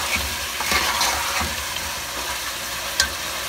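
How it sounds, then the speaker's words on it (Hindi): Spices fry with tomatoes and green chilies in a pan, giving a loud, steady close sizzle broken by occasional clinks and stirring scrapes. "आप थोड़ा सा भून लें मसालों को, टमाटर हरी मिर्चों के साथ"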